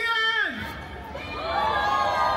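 Outdoor Filipino festival crowd in Calgary cheering and shouting together to pick a performance winner, a swelling burst of voices with a host speaking over the noise at the start.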